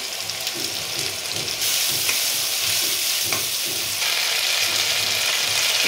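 Onion, ginger and garlic paste frying with turmeric in hot oil, a loud continuous sizzle with a soft repeated scraping of stirring underneath, growing steadier and hissier toward the end.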